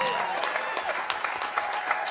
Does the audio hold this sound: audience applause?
yes